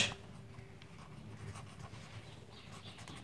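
Writing out a C program by hand, quiet scratchy pen or marker strokes in short irregular bursts against low room noise, no talk.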